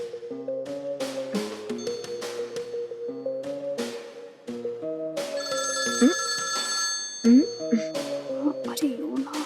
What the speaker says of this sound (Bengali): আরে কে ফোন করছে?